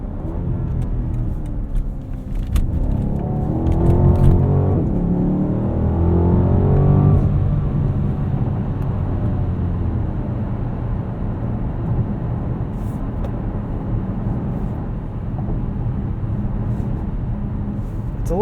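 A 2020 BMW Alpina B7 xDrive with an 8-speed automatic cruising at night on highway roads: steady low engine and road rumble from inside the cabin, a brief swell of acceleration early on, then an even drone.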